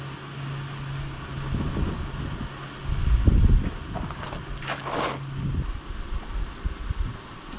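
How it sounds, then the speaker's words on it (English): A breeze blows outside a shop on a warm day, making a continuous rough wind rumble against the microphone that swells into a stronger gust midway, then settles back to a steady rush. "There's a breeze blowing, even though it's still a pretty warm day"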